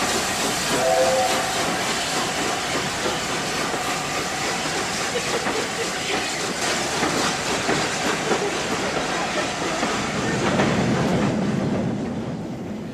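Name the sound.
LNER A4 steam locomotive Mallard leaving, whistle and steam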